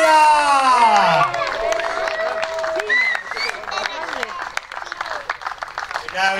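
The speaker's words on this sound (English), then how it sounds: "ladies and gentlemen, one more round of applause" Crowd applause and cheering at a polo prize-giving ceremony, opening with a loud amplified announcer's voice, then scattered clapping with whoops and shouts from the audience.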